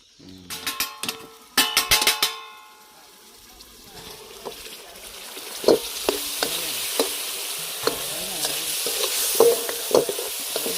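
Chicken fry sizzles in a pan outdoors while being stirred, with a burst of sharp metallic scraping clinks early on, then steady frying hiss and occasional spoon taps, fairly close.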